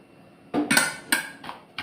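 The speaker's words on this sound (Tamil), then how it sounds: "இப்போ மாங்காய் குழம்புக்கு மாங்காய் கட் பண்ணிட்டேன்." Raw mango being cut for mango kuzhambu, heard as several close knife chops and knocks on a board, irregularly spaced, with quiet pauses between the strokes.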